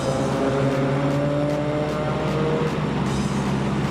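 A modified car's engine roars loud and aggressive at a car cruise with tuned cars gathered, a sustained revving drone with rising and falling pitch over crowd noise, no clear talk.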